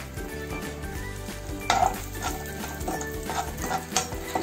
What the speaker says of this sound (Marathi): आता मणुके तळून घेऊया त्याच्यामध्ये। हे पण आपल्या बारीक गॅसवर तळून घ्यायचे।